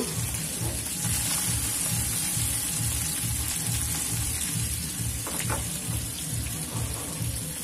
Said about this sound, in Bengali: আমার মাছটা প্রায় ভাজা কমপ্লিট হয়ে গেছে।